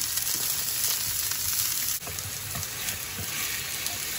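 Eggplant slices frying in a pan give off a steady, even sizzle that runs unbroken and fairly close, with a brief dip partway through as the slices are turned.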